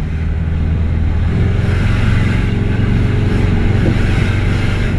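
A 4x4 car engine drives steadily with a loud, rough, continuous rumble and drone that holds constant throughout, close and unbroken.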